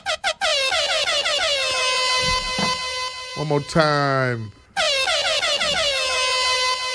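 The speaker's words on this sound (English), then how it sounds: "Air horns again." Loud air horn blasts sound off in quick bursts, cut briefly by a short spoken phrase and a rising whoosh, then a long sustained horn blare resumes on a live talk show.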